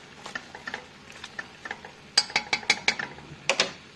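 A utensil stirs vegetables, celery among them, sautéing in butter in a pot, making quick close clicks and scrapes that grow louder and denser in bursts, with no one speaking.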